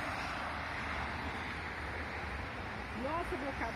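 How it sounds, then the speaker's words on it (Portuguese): Steady broadband rush of wind from a passing freight train hauling coal, continuous and fairly faint throughout, with a brief voice near the end. "Que o trem faz um vento na gente."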